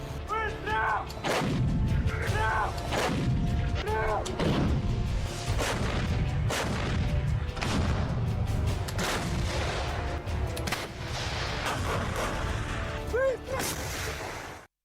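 Loud, continuous barrage of booming blasts and sharp cracks in Kharkiv, repeated impacts overlapping with heavy rumble throughout, sounding like explosions and artillery fire.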